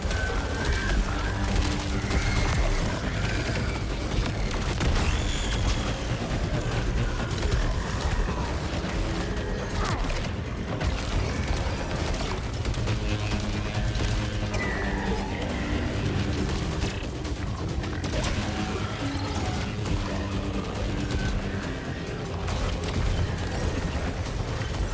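Weapons fire rapidly in the sci-fi action game Saros, giving a dense, continuous barrage of shots, mechanical clatter and booming impacts that stays loud and busy throughout, with no talking.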